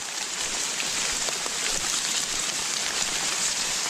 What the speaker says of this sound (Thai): โอ้ยฝนบ่หนาตกเลย เปียกฝนทุกมือแล้วครับ